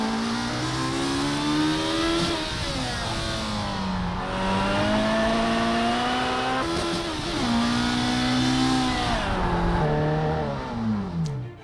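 A race car in Project Cars 3 pulls away from a standing start, its engine winding up through the gears in rising, stepped pitches, loud and close, with a brief dip between shifts and no talk over it.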